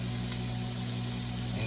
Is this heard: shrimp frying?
yes